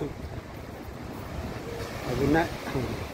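Water laps and washes against a shore under steady wind, with a voice briefly audible near the end.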